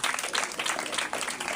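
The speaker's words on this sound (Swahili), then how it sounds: "Makofi kwake tafadhali." Crowd at a youth graduation and certificate ceremony in Garissa gives a graduating student warm applause, many hands clapping densely and continuously at close range.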